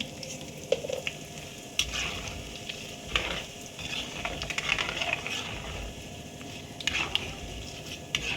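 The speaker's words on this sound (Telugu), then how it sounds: "ఈ వేడికి మనకు ఎండుమిరపకాయలు ఫ్రై అయితే" Dry red chilies fry in hot oil for a mango-ginger pickle, making a close, crackling sizzle with scattered pops and stirring scrapes throughout.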